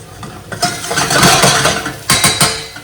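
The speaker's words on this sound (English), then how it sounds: "So let's just let that fry for a little while, just turning the heat down" Apple pieces frying in a pan over lowered heat, a steady sizzle with scraping and clinking of a utensil stirring against the pan, a few sharper knocks near the end, close and fairly loud.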